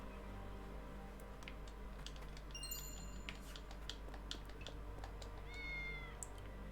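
A cat in the video game Triangle Strategy gives a few short meows over a low steady background hum, with faint ticking and clicking sounds scattered through.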